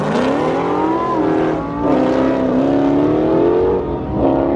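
Lamborghini Huracan Performante racing a Dodge Hellcat, loud high-revving engines climbing through gears in rising sweeps, each shift dipping the pitch briefly before the scream climbs again, close and dominant with no talk.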